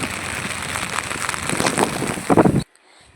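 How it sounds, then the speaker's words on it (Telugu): Heavy rain pours down onto a road during a Ganesh idol immersion procession, a dense, loud, continuous hiss that swells briefly before stopping abruptly. "రోడ్డు ఎక్కితే చూడండి దంచి కొడతా ఉంది వాన"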